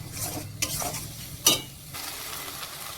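A fish mixture seasoned with salt is stirred in a hot pan, a soft steady sizzle under a few scraping strokes and one sharp clack of the utensil against the pan.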